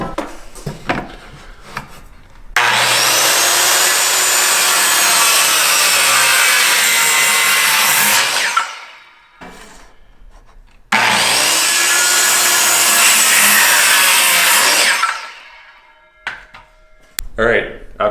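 A hand saw cuts through a wood board for a blanket ladder in two long, loud, close stretches of steady rasping strokes, split by a brief pause, with a few voices before and after.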